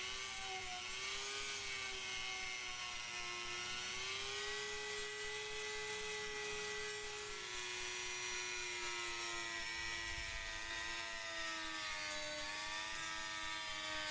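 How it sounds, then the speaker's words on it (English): A Dremel rotary tool fitted with a drum sander cuts texturing grooves into a homemade custom knife handle, giving a steady, high-pitched whine with a continuous abrasive grind, close and unbroken throughout. "Now right now I'm just sanding some grooves into the handles to give it some texturing."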